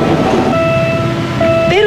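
A train horn blares with a steady sustained tone over rumbling rail noise at a level crossing in Sampaloc, Manila, loud and close, shifting pitch near the end.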